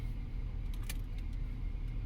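Car driving along with a low, steady road and engine rumble, quiet and continuous, with a brief rattling jingle of keys partway through.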